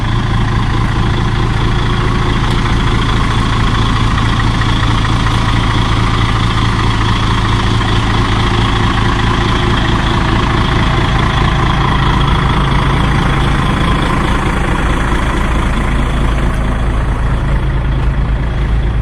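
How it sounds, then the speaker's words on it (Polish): A heavy diesel engine of a Solaris Vacanza 13 three-axle coach idles steadily and evenly, a loud, continuous low rumble with no breaks. "Silnik chodzi równiutko."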